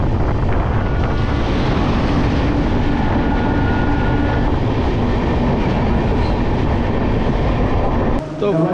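The Rupasi Bangla Superfast Express roars along the track in a loud, unbroken rush of rumble and wind buffeting, heard close from aboard, before a sudden drop near the end.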